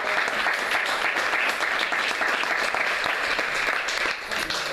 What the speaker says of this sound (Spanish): que os estoy forzando a aplaudir demasiado